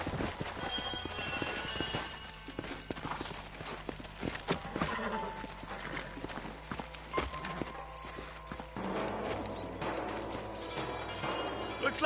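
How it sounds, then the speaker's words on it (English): Horses clip-clop along in Red Dead Redemption, hooves thudding in an uneven walking rhythm at moderate distance, with an occasional whinny and faint game ambience. "Let's hold up a minute and find a spot for our horses."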